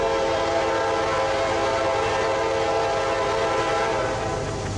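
Manifest freight train Q608 led by locomotive 7771 at Folkston, Georgia, rolling past close and loud in a dense, sustained roar with a strong tonal horn blast layered over the rumble.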